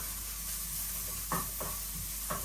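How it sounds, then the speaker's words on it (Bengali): A steady broadband sizzle of chopped onions and green chillies frying in oil, with a few brief stirring scrapes breaking through. "এখন পেঁয়াজটা একটু ভাজা ভাজা হোক"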